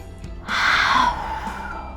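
A person slowly blows out a single long, breathy exhale during a calming relaxation exercise, close to the mic and alone.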